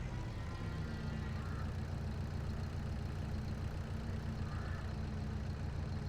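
A tractor engine in the Farming Simulator 22 game hums at a steady low drone, even and unbroken, with no talk over it.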